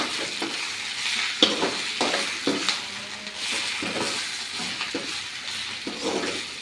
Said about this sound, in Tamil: எண்ணெயில் எல்லா கீரையுமே எண்ணெயில் படுற மாதிரி கிளறி விட்டுக்கலாம்